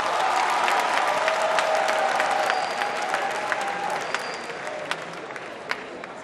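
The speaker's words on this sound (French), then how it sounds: "vous pouvez vous applaudir encore une fois." An audience applauds at a tribute ceremony for the artist Papa Wemba in Abidjan, sustained dense clapping from a large crowd that gradually thins, with a few sharp individual claps standing out.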